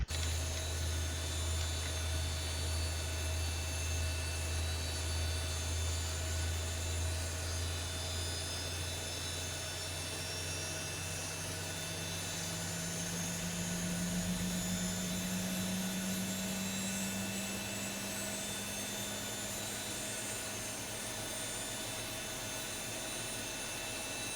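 An aircraft engine spools up in a flight simulator during an evening island hop from St Maarten to St Thomas, with a low steady hum rising into a climbing whine and a continuous high-pitched whistle, heard alone and without talk.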